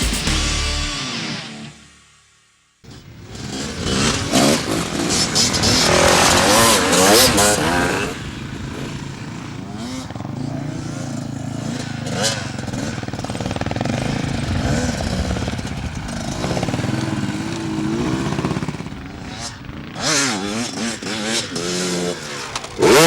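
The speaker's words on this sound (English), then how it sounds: "here's Gary with some very sore legs on an enduro bike" An enduro motorcycle rides off-road with the engine revving and droning loudly, rising and falling as the rider shifts and accelerates over varied ground, and a voice talks over parts of it.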